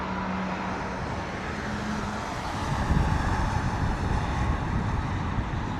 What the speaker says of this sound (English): Virgin Dreamliner, by the looks of it, spooling up its engines over there in the background